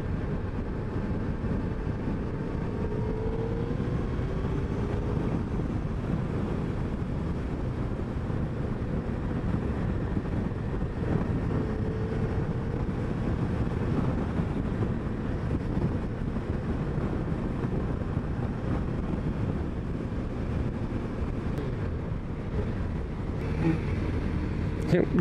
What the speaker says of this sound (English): Rolling up into Barber Motorsports on a Busa.